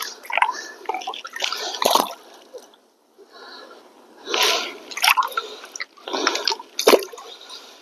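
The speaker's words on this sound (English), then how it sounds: "So now I rinse my rocks right over top of my pan." Rocks rinsed by hand in water over a gold pan, close-up splashing, dripping and sloshing in short bursts separated by brief quiet pauses.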